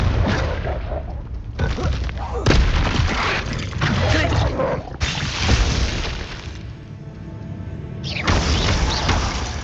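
Repeated heavy blasts from the Confringo spell in Hogwarts Legacy, a run of loud booming explosions with sharp onsets and rumbling tails that follow one another every second or two, alongside other game combat noise.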